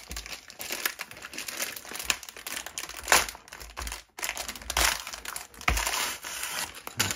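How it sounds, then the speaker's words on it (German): Plastic wrapping of a Lego City Maxi Pack bag, heavily glued, crinkles and crackles up close as it is pulled open, in a steady run of rustling bursts with a few louder tearing snaps. "wieder sehr viel Kleber und aufpassen, dass die Tüte nicht zerreißt"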